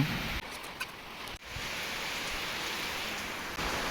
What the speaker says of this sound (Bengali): বৃষ্টি কমে নাই, বৃষ্টি চলতি হয়েছে